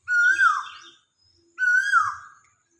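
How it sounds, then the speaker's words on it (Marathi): An Asian koel calls twice in a garden, each call a clear, rising-then-falling whistle separated by a short silence and heard alone at moderate distance. "तुम्हाला कोकिळेचा आवाज येतोय का?"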